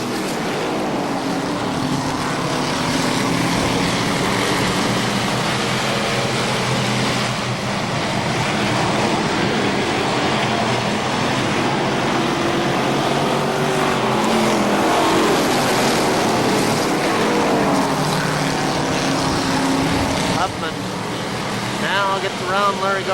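Legends race cars roar around KilKare Speedway oval in a loud, continuous engine drone that rises and falls as the pack passes, with an announcer calling the race over it throughout.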